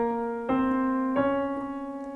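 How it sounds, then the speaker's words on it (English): A piano's right hand plays sustained octaves as accompaniment for a song, with two clear, ringing struck notes roughly a second apart that decay slowly, heard alone. "So in the right hand, we're going to be playing octaves the whole time"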